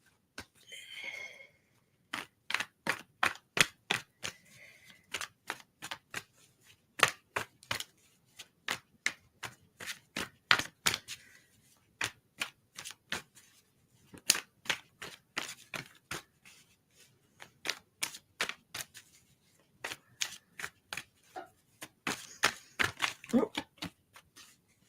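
Tarot cards being shuffled by hand in bursts of quick crisp riffling clicks, close and repeated many times, with a voice speaking briefly now and then between them.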